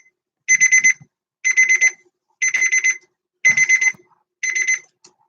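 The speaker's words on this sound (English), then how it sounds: "that fucking alarm clock" Alarm clock ringing in five evenly spaced bursts of rapid shrill beeping, each about half a second long, loud and close with quiet gaps between.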